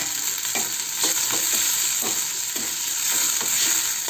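Onions that have turned light brown and tomatoes fry in a pan for dal, a steady close sizzle with repeated stirring scrapes at an uneven beat and no talking.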